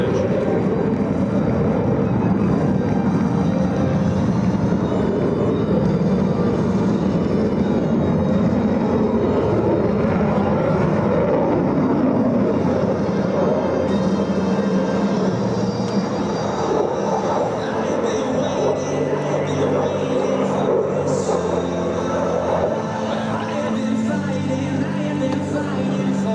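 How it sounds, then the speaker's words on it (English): A P-51 Mustang piston fighter making a final pass at an air show, a loud, sustained propeller-engine drone that dominates throughout, with a crowd and an announcer's voice mixed underneath. "Tuna Hainline comes in with a P-51 for one last pass"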